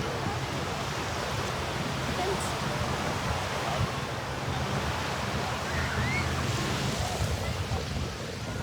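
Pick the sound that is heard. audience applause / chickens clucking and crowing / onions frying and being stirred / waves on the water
waves on the water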